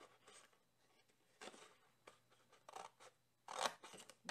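Scissors snip through paper card while a bag and card are being crafted: a series of faint, close cuts spaced irregularly, with the last snips the loudest.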